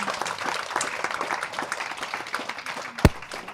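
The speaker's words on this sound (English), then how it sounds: "A warm round of applause for our ladies" Symposium audience giving a round of applause, a moderate scattered patter of many hands that holds steady, with one sharp louder clap standing out near the end.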